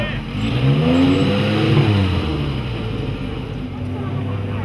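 A Lancia Stratos rally car revs its engine at the start of the Rally San Marino, the loud, rising and falling engine note close by and mixed with crowd noise.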